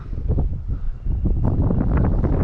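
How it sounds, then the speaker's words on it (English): Strong wind buffets the microphone in continuous low, roaring gusts, rising louder in the second half, with no voices. "it's going to be super windy"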